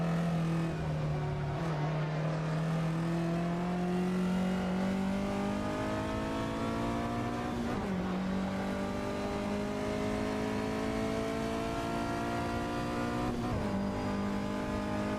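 Vintage Ferrari GTC race cars in a racing video game scream at high revs, the engine note climbing steadily and dropping sharply at gear shifts roughly every five to six seconds, with other cars' engines layered close behind.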